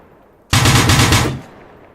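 A vehicle-mounted 12.7mm M2 heavy machine gun fires a single loud, close burst of rapid shots in a video game, lasting under a second, then fades.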